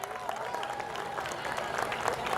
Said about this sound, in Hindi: कृपया जोरदार तालियां बजाकर अपने साथियों का उत्साहवर्धन करें।